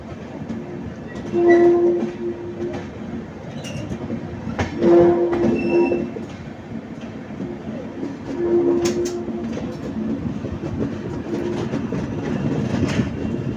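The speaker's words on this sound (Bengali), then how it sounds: "ট্রেন নাম্বার 13151 কলকাতা জম্বুতাওয়াই এক্সপ্রেস তার নির্দিষ্ট সময় ছেড়ে দিয়েছে স্টেশন দিয়ে" The Kolkata–Jammu Tawi Express runs along the rails with a steady rumble and rattle, broken by three sustained horn blasts near the start, middle and later on.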